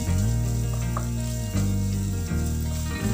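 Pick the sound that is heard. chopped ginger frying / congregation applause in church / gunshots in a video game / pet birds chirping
chopped ginger frying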